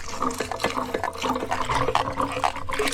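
Water churns and sloshes through a rumbling coffee pulping machine rolling coffee cherries with water in Tanzania, a continuous wet, mechanical rolling sound heard up close.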